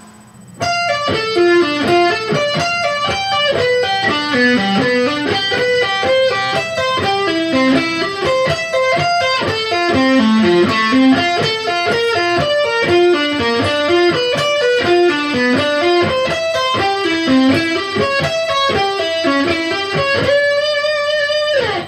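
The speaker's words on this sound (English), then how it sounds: "Now let's hear the lick at a slow tempo with a little bit of distortion." A slow, melodic arpeggio lick on electric guitar with mild distortion, notes rising and falling steadily and played alone at a consistent loudness.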